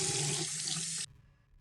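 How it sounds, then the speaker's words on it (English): Tap water runs steadily while someone washes their feet, a loud close hiss that cuts off abruptly after about a second. "right now I'm washing my feet"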